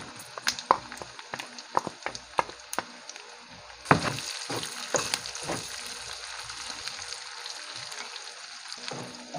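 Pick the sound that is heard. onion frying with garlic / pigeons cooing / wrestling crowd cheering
onion frying with garlic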